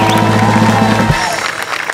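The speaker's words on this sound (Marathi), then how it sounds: "त्यांच्यासाठी सुद्धा एकदा जोरदार टाळ्या." A studio audience on a Marathi television comedy show breaks into loud, dense applause that takes over abruptly from a sustained musical tone.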